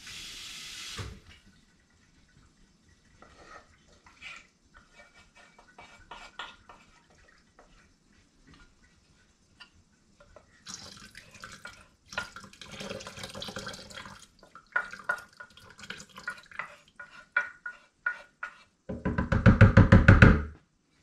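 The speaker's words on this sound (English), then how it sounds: "Get some water in there." Water from a tap runs into a blender while butter chicken is being made: a brief splash at the start, quiet handling knocks, then intermittent pouring and splashing that grows loud toward the end.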